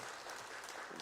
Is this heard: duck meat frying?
no